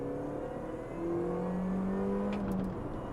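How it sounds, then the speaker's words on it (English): A Mini Cooper S R53 hot hatch engine revs steadily from inside the car, a continuous droning note that rises slightly midway and holds, with no talking. "Listen to it, it's a lovely, excitable little engine."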